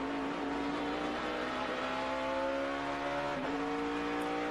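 Onboard engine of a race car during the 2012 Sargento 200, a loud steady roar whose pitch climbs through the gears, with a brief throttle blip marking a downshift near the middle and the climb resuming afterward.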